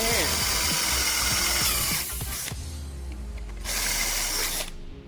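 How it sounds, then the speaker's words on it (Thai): A power drill whirs loudly in bursts, its motor pitch dropping and rising as it bites into a metal spray can, close up. "ทีนี้ก็เป็นหน้าที่ของสว่านแล้วสิครับมาสว่านมาเจาะเข้าไปครับ"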